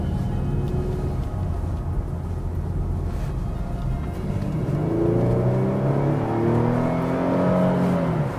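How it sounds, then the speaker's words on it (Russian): A 2015 Nissan Fuga Hybrid's engine runs at a low, steady hum up close, then rises in pitch as it is revved gently. The throttle is blipped a few times, with the tone climbing and falling in the second half. "Завелся мотор, нажав на газ чуть-чуть."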